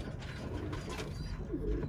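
Birmingham Roller pigeons coo during breeding season in an outdoor loft, a soft low murmuring close by over light background noise.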